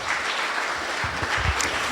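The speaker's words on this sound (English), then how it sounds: "let's give a big round of applause to everyone who tirelessly put this on" Brief applause at a youth mental health summit for the event's organizers, a steady close wash of clapping with a few low thumps.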